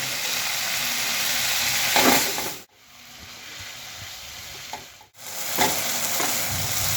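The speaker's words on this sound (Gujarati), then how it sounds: "મિત્રો ટમેટા નાખ્યા બાદ આપણે 3-4 મિનિટ એકદમ સરસ રીતે કૂક કરવાનું છે આપણું મિક્સર. અને હાઈ ફ્લેમ જ અત્યારે રાખજો." Chopped tomatoes cook in butter over a high flame for Jain paneer bhurji, giving a loud, close sizzle with steady stirring scrapes that drops off twice briefly and then resumes.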